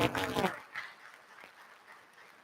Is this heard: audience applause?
yes